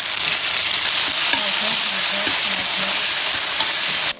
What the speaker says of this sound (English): We're gonna stir fry this by itself with the oil until it turns beautiful.